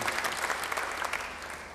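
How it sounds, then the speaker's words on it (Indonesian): A church congregation breaks into brief applause, dense clapping from many people filling the room for under two seconds, fairly loud and without speech over it. "Beri tepuk tangan yang baik bagi dia."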